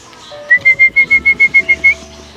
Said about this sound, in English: will they come back whenever I call them through this whistle?